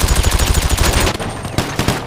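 Rapid video game gunfire, a dense close burst of automatic shots that briefly thins and then resumes, loud and without talk.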